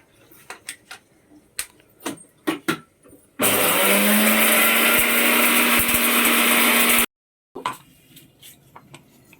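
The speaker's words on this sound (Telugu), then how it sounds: "అమ్మా ఈ రెండు పెద్దగా కట్ చేయవా మిక్సీలో" A mixer grinder roars loudly as it grinds food in a home kitchen, a steady whine lasting a few seconds. Clatter and knocks of handling come before it and a short pause follows.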